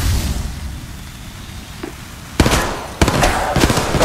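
A riot grenade goes off in the mobile game Apex Legends Mobile, throwing out two sharp crackling bursts in quick succession. Each burst leaves a hissing, sputtering tail above faint background noise.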